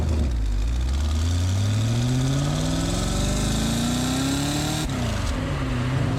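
A Porsche 928's modified V8 exhaust rumbles loudly and close, its low note climbing steadily before dropping back to a deep, even burble.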